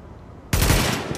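Loud burst of automatic gunfire in a video game, a sudden continuous rattle of shots cutting in after a quiet moment and running to the end.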